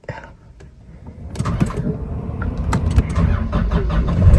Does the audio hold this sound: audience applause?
no